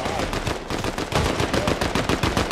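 Dense, rapid gunfire from a Fortnite match fills the whole stretch, with loud overlapping bursts of shots in a fast, steady rhythm.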